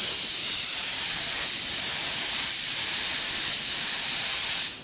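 A paint spray gun sprays paint in a workshop during a flare install on a Toyota Hilux ute, one loud continuous hiss lasting nearly five seconds before cutting off abruptly.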